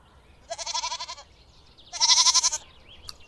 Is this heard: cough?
no